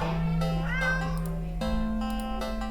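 A black cat in the video game Do Not Take This Cat Home meows in long, drawn-out calls over a steady low background hum, close and fairly loud, with no talking.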